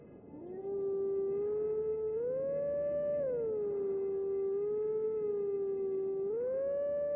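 A wolf howls in the video game The Legend of Zelda: Twilight Princess HD, one long, loud, sustained howl that rises, wavers and swoops in pitch, with no other sounds.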